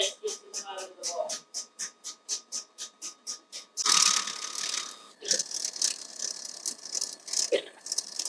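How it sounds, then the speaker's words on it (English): A whisk scrapes the side of a bowl while whipping raspberry mousse. It makes a fast, regular rattling that turns into busier, louder clattering strokes. The sound is close and no talk is heard. "It's only on the side, I'm not jamming the whisk into the bottom of the bowl."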